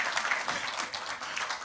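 An audience in a church sermon setting claps steadily and fairly loudly, a dense wash of many hands sustained throughout with no speech over it.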